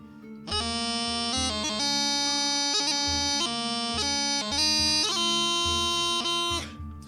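Opening bars of Green Hills on Highland bagpipes, the chanter leaping through grips from B up to C above a continuous drone, played loud and close with no talking.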